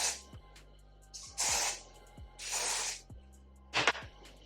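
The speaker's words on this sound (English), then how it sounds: "I'm just gonna spray it" A hair spray bottle is pumped onto a glueless wig in short hissing bursts, about four spritzes of varying length spaced irregularly, close and fairly quiet.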